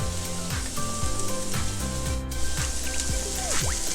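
Tomatoes hit a hot pan over a high flame while vegetable masala Maggi is cooked, giving a close, steady sizzle and frying hiss with faint stirring and scraping sounds throughout.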